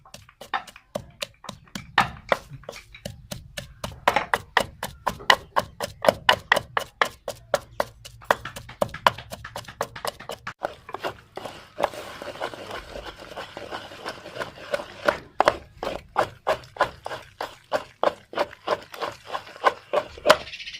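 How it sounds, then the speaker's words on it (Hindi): Steady, repeated pounding thuds from a pestle crushing almonds, melon seeds and poppy seeds by hand, close and rhythmic, with a few short pauses between runs. "हाथ से कूटने का कुछ मज़ा ही और है"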